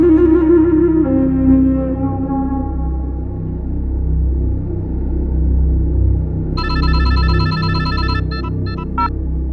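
A phone rings with a bright electronic warble partway through, after a low sustained rumble and fading tones, moderately loud with no talk.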